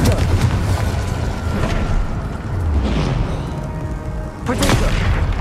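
Confringo blasting curses burst again and again in Hogwarts Legacy, loud booming explosions layered over continuous spell-combat noise, with a sharp blast near the end.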